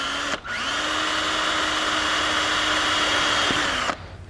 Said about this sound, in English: I'm going to drill a pilot hole right through the center of this one spot right here